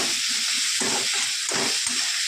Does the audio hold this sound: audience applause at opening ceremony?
no